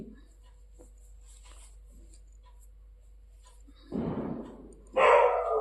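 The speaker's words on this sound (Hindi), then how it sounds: "मेरे कुत्ते जो हैं बम पटाखा से डर रहे हैं, तीनों के तीनों भौंक रहे हैं" Pet dogs frightened by firecrackers let out two loud bursts of barking near the end, following a few seconds of quiet room tone in a home.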